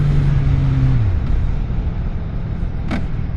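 A CFMOTO 675SR-R three-cylinder motorcycle being ridden, a loud steady engine drone that drops abruptly in pitch at a gear hiccup, followed by continuous rumble and wind noise with a brief sharp click late on.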